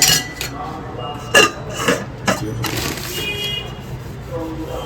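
Dishes being scrubbed and washed, including a pressure cooker, with scattered clinks and clatters of utensils against metal pots and a steady scrubbing hiss; a few louder knocks stand out.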